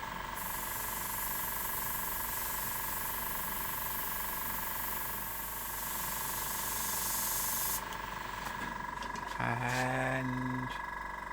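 An airbrush hisses steadily while spraying inside a woodturned sunburst textured bowl, a constant airy whoosh that cuts off near the end, followed by a brief tonal buzz.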